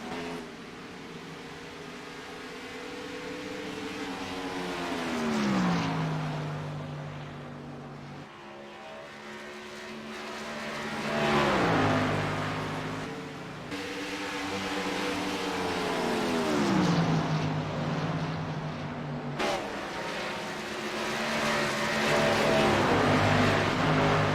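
Race cars lapping a short oval track at night, engines droning and rising in pitch as they swing past in waves, then dipping as they pull away, a loud continuous roar with no talk.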